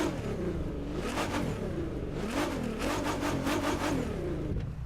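Nissan Skyline in the racing game The Crew 2, its engine revving hard and climbing through several quick upshifts, loud and close with a steady rasping drone and no voices.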